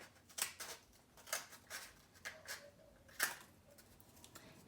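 Scissors cut into a cardboard toilet paper roll, making a slit and then working around it. The snips are quiet and crisp, come in an uneven rhythm of about half a dozen, and are heard close up with no talking.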